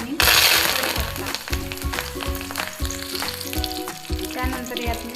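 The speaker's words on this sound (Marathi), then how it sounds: "जिरे टाकून घेऊ, मोहरी, तेजपान आणि कढीपत्ता।" Cumin, mustard seeds, bay leaf and curry leaves hit hot oil for a dhaba-style shev bhaji, bursting into a loud, close sizzle with crackling pops and stirring clatter that settles into steady frying.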